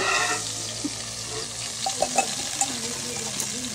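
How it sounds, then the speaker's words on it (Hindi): Steady, loud sizzling of garlic and white cumin frying in hot oil, with faint clinks and a quiet voice underneath. "तड़का हमारा तैयार हो गया जी, लहसुन का और सफेद जीरे का।"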